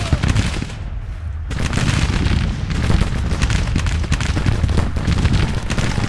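Infantry musket volleys crackle in Grand Tactician, a Civil War battle, forming a continuous ragged fusillade with deep booms under it, briefly thinning near the start before resuming at full intensity.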